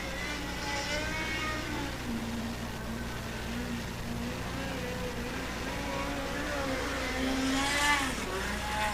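A USAC National Midget race car runs a qualifying lap on the Red Dirt Raceway dirt oval, its engine droning steadily at a distance and rising in pitch as it swings past, with no talk over it.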